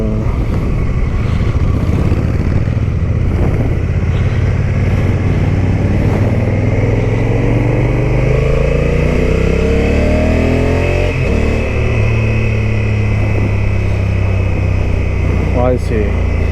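A Honda motorcycle on a road test ride: its engine drones loud and close throughout, rising and falling through gear changes, with wind rush and a rider talking over it.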